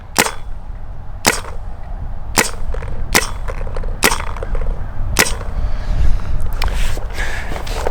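An Immortal Prime XTS paintball marker with a C5 engine fires six sharp, loud shots at a fairly even pace over several seconds, with the hopper switched off, each crack standing out above a low room rumble.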